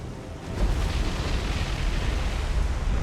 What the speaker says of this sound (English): she just had a magazine explosion